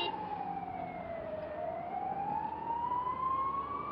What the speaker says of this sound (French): La ville grouille d'ambulances.